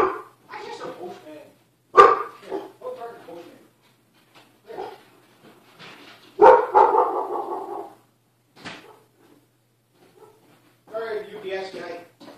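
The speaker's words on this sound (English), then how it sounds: "The dog's got to bark at the UPS guy." A dog named Lacey barks at a UPS delivery man, giving several loud, separate barks and yips spaced out over the span with quiet gaps between them.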